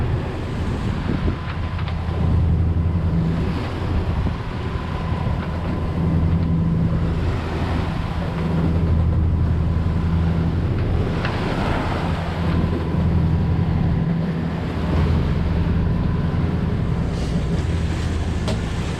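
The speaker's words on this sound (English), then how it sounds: "I know these videos don't do justice with how big some of these waves are" Ocean waves wash and surge around a sailboat on an overnight coastal passage at sea, a loud continuous roar of water and rushing wind with a low hull rumble and gusty swells, no voices.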